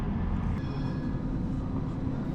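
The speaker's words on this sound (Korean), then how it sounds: "현재 제가 타고 있는 것은 건너편에 있는 것과 같은 트램입니다." Steady rumbling ride aboard a tram in Istanbul, with continuous low wheel and motor noise and a faint tonal whine, close and loud throughout with no talking.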